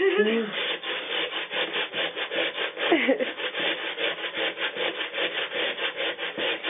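Potatoes are rubbed against a sharp hand grater in a fast, even rhythm of rasping strokes, close and steady throughout, with a brief voice near the start.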